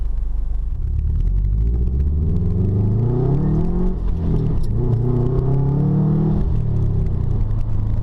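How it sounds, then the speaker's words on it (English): A 2011 Subaru WRX Stage 2 accelerating hard, its engine rumbling loud and close as the pitch climbs steadily through the gears for about eight seconds, with no talking over it. "Acceleration in this car is terrific."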